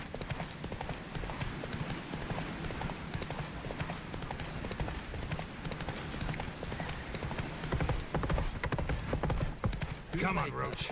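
Hoofbeats from the horse Roach pound in a steady gallop in The Witcher 3, close and continuous beneath game music, with a voice talking over them.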